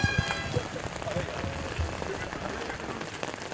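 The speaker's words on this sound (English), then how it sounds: "this rain is only temporary" Steady rain falls and patters on surfaces during an ultra-distance bike race, the Pan Celtic Ultra Race, as a continuous broadband hiss with scattered drops and faint background voices.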